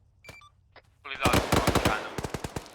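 Grenade machine gun rounds fire in a military video game, starting with a few sparse distant pops and then a loud rapid burst of repeated shots lasting over a second, with radio chatter around the firing.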